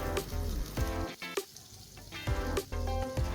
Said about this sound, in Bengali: পটলগুলো দুপাশ থেকে সুন্দরভাবে ভাজা হয়ে গেছে।